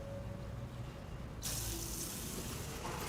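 Water rushing down a kitchen sink drain just cleared of a grease clog, starting as a quieter flow and then suddenly surging into a loud, steady gush that continues to the end.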